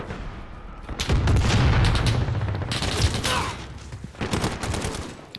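Rapid in-game gunfire in Call of Duty: Modern Warfare, with a pistol among the weapons, crackles in dense clustered bursts and sharp repeated shots over a few seconds, loud and close with little talk.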